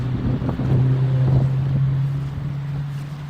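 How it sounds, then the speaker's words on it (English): Wind buffeting the microphone of a Sony action camera outdoors, a steady low rumble with a strong hum and gusty bumps running throughout, no voices. "There's some more wind."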